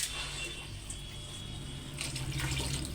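Water pours steadily from a glass into a cooking pan on the stove, a continuous close splashing rush that swells slightly toward the end, with no talk.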